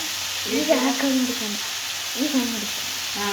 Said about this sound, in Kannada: ಟೊಮೊಟೊ ಈಗ ಮೆತ್ತಗೆ ಫ್ರೈ ಆಗಿದೆ.